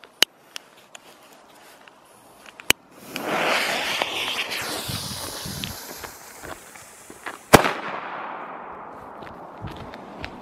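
Sharp, loud bangs of Weco cube-shaped cannon-cracker firecrackers going off, with a hissing fuse or burning sound building between them and a big blast near the end.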